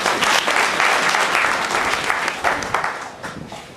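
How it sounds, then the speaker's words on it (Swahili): An audience at a school parents' orientation applauds with dense, steady clapping that starts loud and gradually thins out over a few seconds. "Mpigie makofi."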